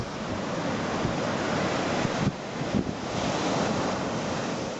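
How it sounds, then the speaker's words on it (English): Sea waves surge through the narrow entrance of Loch Ard Gorge on a calm day, a steady rushing wash with a couple of heavier swells, mixed with wind buffeting the microphone. "Look how narrow the entrance is and how swift the sea runs in."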